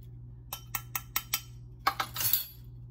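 A spoon clinks against a small bowl while stirring melted vegan butter with chopped garlic: about five evenly spaced taps, then a quicker flurry of scraping clinks, quiet and close over a low steady hum.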